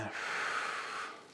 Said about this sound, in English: I'm going to breathe in